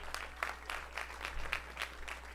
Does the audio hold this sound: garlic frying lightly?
no